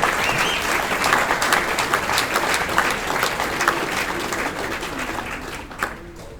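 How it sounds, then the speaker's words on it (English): Audience applause at a Carolina Beach Music Hall of Fame induction ceremony, a steady, dense round of clapping from a large indoor crowd that holds evenly and tapers slightly near the end. "Clint Horton, give me a round of applause."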